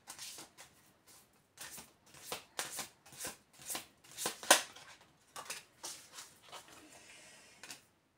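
Tarot cards are shuffled and drawn by hand, giving a quiet, close series of crisp riffling and flicking bursts. The bursts come in an uneven rhythm, with one sharper snap in the middle and no voice over them.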